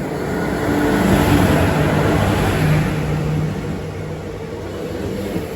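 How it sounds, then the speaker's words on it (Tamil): An Indian Railways train rolls in slowly, a broad, steady rumble with low mechanical hum that swells and then eases slightly, heard from close by without voices. "இப்போ பார்த்தீங்கன்னா ட்ரெயின் எவ்வளோ ஸ்லோவாக வருதுன்னு பாருங்களேன்"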